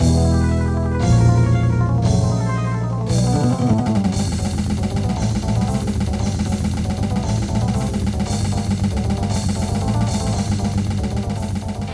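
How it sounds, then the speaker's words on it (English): Synthetic MIDI bass line and programmed drums play back steadily with a thin, plasticky electronic tone, after a brief few-note intro. "A MIDI sound like this is not very inspiring"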